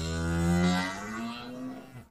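A bull moos once, a long, loud, deep bellow with rich harmonics that slides and fades out, heard alone as a sound effect in a story about a coyote.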